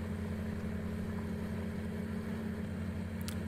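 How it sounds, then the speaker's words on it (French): A modded tractor engine idles steadily in Farming Simulator 19, a low, constant rumble with a droning hum that holds level and unbroken throughout, close and alone with no voices. "le bruit du tracteur est juste magnifique"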